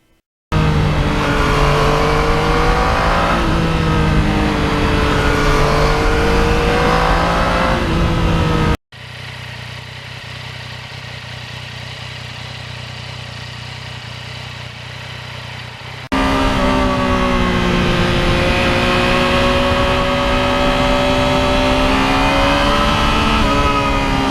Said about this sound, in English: throttle response is a major thing that I like when I like a bike